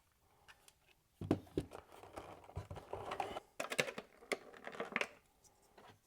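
Clicky face button on an EasySMX X20 game controller pressed repeatedly, quick light plastic clicks in irregular bursts, close and quiet, with no talking.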